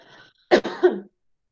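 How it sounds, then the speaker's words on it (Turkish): A single cough followed by a throat clearing, close and fairly loud, heard alone in a quiet room during an online chemistry lecture. "Aslında şöyle öksürmemiz lazım değil mi?"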